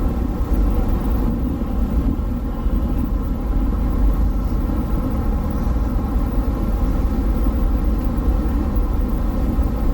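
A vehicle cruising north on Highway 185 produces a constant, loud low road and engine rumble, steady for the whole stretch with no breaks or voices.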